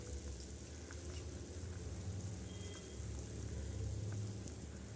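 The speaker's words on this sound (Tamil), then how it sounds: "இப்போ குழம்பு நல்லா கொதிக்குது" A tamarind curry with moong dal and brinjal bubbles in a pot, giving a steady soft sizzling, crackling simmer with faint pops and a low rumble underneath, quiet and unbroken with no speech.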